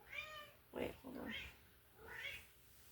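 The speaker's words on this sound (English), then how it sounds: "This is my cat. She came to say hello, I guess." A pet cat meows a few times indoors, soft and close, with a person talking quietly around the calls.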